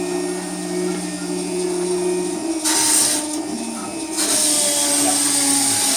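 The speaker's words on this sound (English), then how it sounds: "now we should see the cutter go through." A Phlatprinter's cutter drives through material with a loud, steady mechanical whir and grinding motor drone, broken by a couple of brief harsher bursts.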